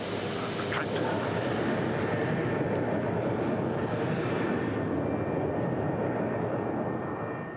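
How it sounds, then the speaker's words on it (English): A BAC One-Eleven airliner climbing away after takeoff: a broad, steady jet roar with rushing noise, fairly faint and distant, holding even throughout without voices. "Mirko, though unfamiliar with the big airliner, makes a perfect takeoff. And the 111 climbs on autopilot."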